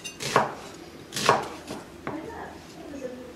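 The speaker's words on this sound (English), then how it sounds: "We start by chopping up some onion, just roughly" A knife chops an onion roughly on a board, two firm cuts followed by a lighter one and faint handling noise, close up with no talk.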